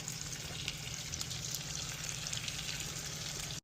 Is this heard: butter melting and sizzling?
yes